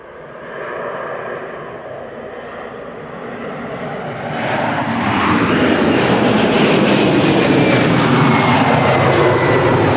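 Airliner taking off from East Midlands Airport, bound for Cincinnati: a loud jet roar builds over the first seconds, then swells to a sustained, powerful rush that holds to the end, with no talking.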